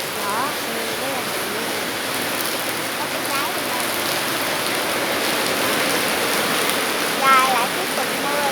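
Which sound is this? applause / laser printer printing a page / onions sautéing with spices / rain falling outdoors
rain falling outdoors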